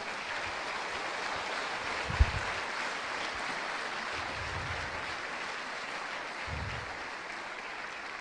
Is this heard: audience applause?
yes